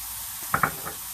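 Two large shallots drop into a hot pan and begin sizzling, with a couple of sharp clinks and stirring scrapes over a steady fry, close and moderately loud, no voices.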